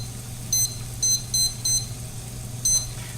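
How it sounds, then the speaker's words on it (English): Five short, bright electronic beeps from a kitchen timer set for ten minutes while garlic parmesan red potatoes and corn cook, sounding in a quick cluster and then once more after a pause over a low steady hum. "we're gonna set the timer for 10 minutes"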